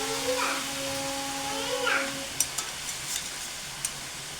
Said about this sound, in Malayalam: നല്ലൊന്ന് മിക്സാക്കി എടുത്തു കഴിഞ്ഞാൽ നൂഡിൽസ് ഇവിടെ തയ്യാറായിട്ടുണ്ട്